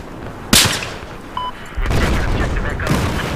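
A sharp shot cracks early in a Battlefield 4 match, followed by a short pause and then a louder, sustained rush of gunfire and battle noise, with a voice talking over it.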